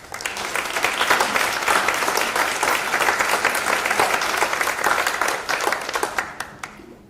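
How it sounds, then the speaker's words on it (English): Audience applause for panelists at the close of a conference program on the crime of aggression: a full, sustained round of clapping that swells quickly, holds steady for several seconds, then thins out into a few scattered claps. "let's give our panelists a big round of applause"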